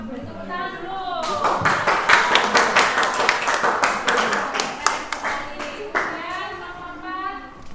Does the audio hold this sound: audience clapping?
yes